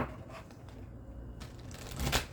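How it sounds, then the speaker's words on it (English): A deck of tarot cards being shuffled up close: soft papery riffling bursts that swell to a brisk flurry near the end, with no talking. "One more shuffle."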